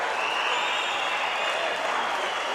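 A judo arena crowd at the Baku Grand Slam applauds an ippon throw with steady, dense clapping and cheering that fills the hall throughout.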